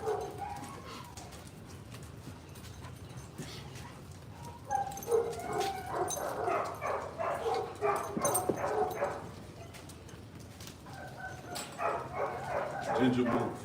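Two pet dogs bark, yip and whimper in short bursts, with a person talking to them throughout.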